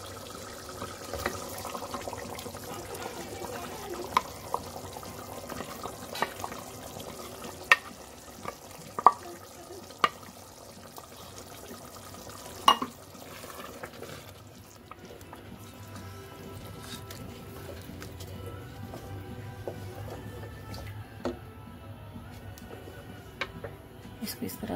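Ground spice paste stir-fried in a pan for Hyderabadi mutton marag: a low, steady sizzle runs under repeated sharp spoon scrapes and clicks against the pan, fading quieter toward the end.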